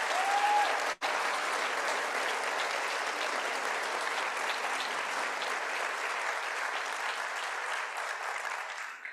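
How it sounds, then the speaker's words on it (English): Sustained applause at a fall university convocation welcoming new faculty colleagues, a broad steady wash of many hands clapping that runs the whole time, with a brief dropout near the start, then tapers slightly at the end. "Let's have a round of applause for our newest colleagues."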